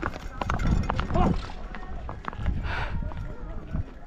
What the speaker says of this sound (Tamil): ஓடுதியா குதிரை